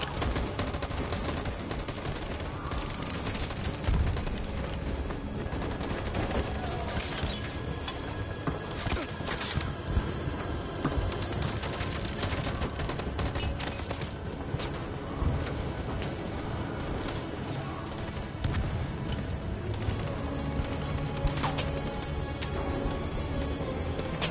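Gunfire in the video game Detroit: Become Human crackles in dense, overlapping bursts of shots and automatic fire, loud and sustained across the scene with busy background noise.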